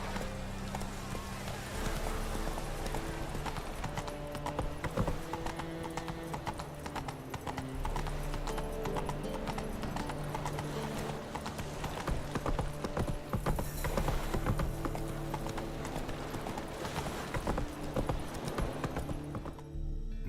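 Hooves of the horse Roach galloping in The Witcher 3, a rapid continuous clip-clop over a low music bed, with game voices speaking briefly throughout and a neigh or two amid the running.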